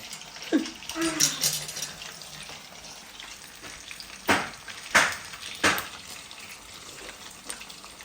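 Chicken 65 pieces frying in hot oil, a steady sizzling hiss broken by several loud scraping clatters as pieces are turned, with a brief voice early on.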